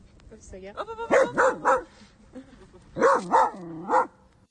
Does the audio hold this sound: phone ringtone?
no